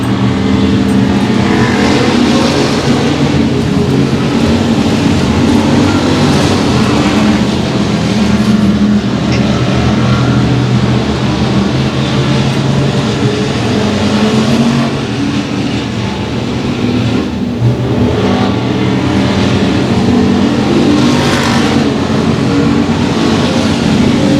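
Race cars thunder around Boyd Raceway in a loud, continuous, close engine roar that swells and eases as the pack laps the track, with no break for the whole stretch.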